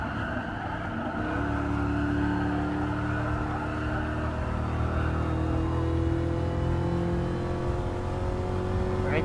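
Dodge Charger SRT Hellcat V8 roaring in Gran Turismo Sport racing, a loud sustained engine drone with rising revs as cars battle for an overtake, steady and close throughout.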